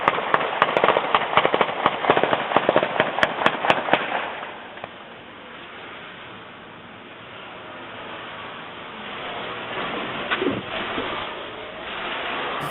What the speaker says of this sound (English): You hear them gunshots?